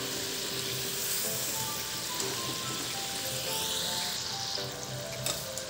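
Methi sticks deep fry in oil over a medium flame, giving a steady, dense bubbling sizzle like light rain, close and even throughout with a few faint clinks and no voices.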